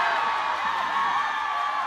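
Cheering fans at an outdoor concert during the Masan fish market festival roar in a steady, loud, unbroken wash of crowd voices and shouts throughout.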